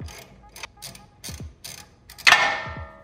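A ratchet loosens a 17 mm sway bar bolt on a Toyota Tacoma, a series of quick clicking strokes followed by a bright metallic ring from the bolt or tool, close and alone.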